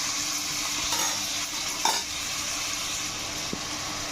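Prawns frying in oil in a pan, a steady broad sizzle with a couple of soft stirring scrapes and a light clink, close and continuous with no talk.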